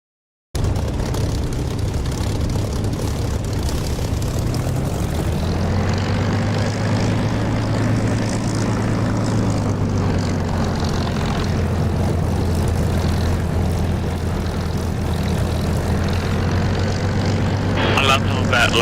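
Aircraft engine in the DCS flight simulator game spooling up for takeoff, a loud steady drone with a rising tone that settles into a constant hum over the length of the clip.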